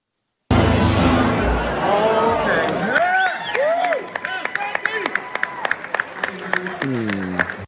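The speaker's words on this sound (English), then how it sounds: "There will be a smattering of applause when he ends." Scattered applause after a solo acoustic guitar performance, with clapping and crowd murmur at the start, then whistling, chirping tones, and sporadic isolated claps trailing off.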